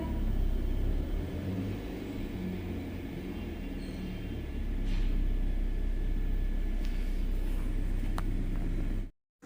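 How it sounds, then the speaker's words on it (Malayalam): A car pulling away has a low engine rumble that holds steady, then swells slightly before cutting out abruptly near the end. "ചേച്ചി പോണു. സ്വരം കേട്ടാ കാറിൻ്റെ."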